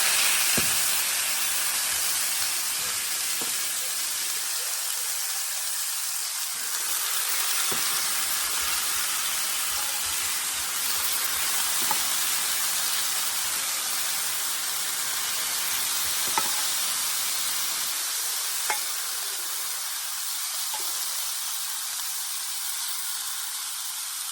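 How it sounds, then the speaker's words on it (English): Cooked pinto beans tipped into a hot pan for refried beans, setting off a loud, steady sizzle and hiss that runs the whole time, with scattered sharper pops and crackles. "now into the bean pan, I'm just going to add my pinto beans that I cooked."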